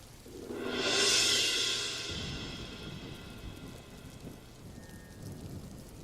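A loud thunderclap swells and rolls for about two seconds over steady rain, then fades, leaving a constant hiss of rain falling on surfaces.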